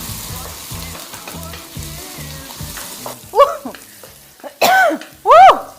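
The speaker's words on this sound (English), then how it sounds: "Stir fry them about a minute." Garlic, chili and shallot stir-frying in hot oil, starting with a soft sizzle and low rhythmic pulses, then several loud sharp bursts of scraping or clanging near the end.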